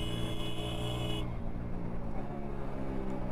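Modified exhaust of a Hero Splendor BS6 motorcycle on a downshift, a steady engine drone that drops abruptly in pitch partway through and continues as a lower, rougher burble, close and loud.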